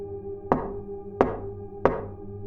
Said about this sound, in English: When we didn't open up, they knocked again.